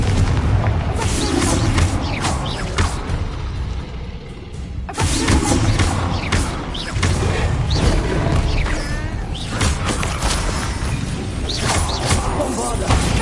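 In Hogwarts Legacy, Confringo fire spell explosions boom repeatedly over a constant rumble of combat noise, loud and close, with a voice calling out spells between the blasts.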